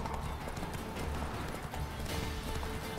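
Roach, a horse in The Witcher 3, gallops with steady, close clip-clop hoofbeats that carry a continuous rhythm throughout.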